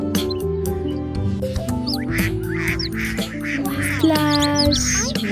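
Cartoonish duck quacks and squawks come in quick bursts over cheerful background music for a toddler counting song, with some bursts louder and more crowded toward the end.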